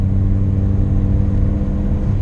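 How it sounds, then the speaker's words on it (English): A 1991 Chevrolet S10 pickup's engine held at full throttle gives a loud, steady hum close by, with no voices over it. "We'll go full throttle here for a second."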